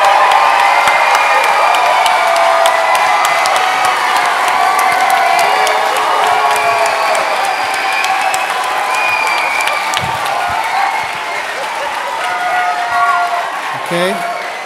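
A large debate audience in a university hall cheers, whoops and claps steadily throughout a vote, the dense crowd noise holding at a loud, even level before easing slightly near the end.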